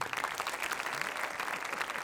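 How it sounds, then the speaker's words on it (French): Applause from the audience at a French awards ceremony for the events industry, steady crowd clapping heard at a distance, soft and even for a couple of seconds. "Vous pouvez les applaudir, bien sûr."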